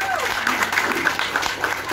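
Brief round of clapping from an audience at a Brazilian political event in Catu, steady and moderately loud, with a speaker's voice running over it.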